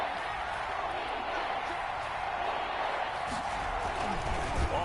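Steady roar of a stadium crowd getting up and making noise late in a PS4 American football game, a continuous dense wash of cheering that holds level throughout.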